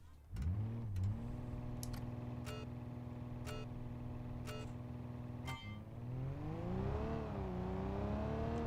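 ETK 800 diesel car in the BeamNG racing game launching off the line: a steady, strong engine drone holds through sharp gear-like clicks, then the pitch swells and wavers as the car accelerates.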